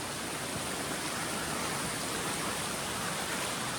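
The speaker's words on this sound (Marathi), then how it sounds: "ही जो ओढा आपण क्रॉस करतोय ना" Broad, steady rush of a flowing stream on the Pavankhind trek route near Kolhapur, loud and close as it is crossed on foot, with no voices.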